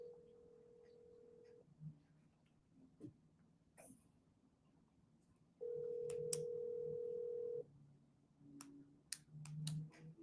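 Outgoing phone call to a property buyer ringing twice, two steady electronic ring tones separated by a pause, clear and moderately loud over faint room noise and small clicks.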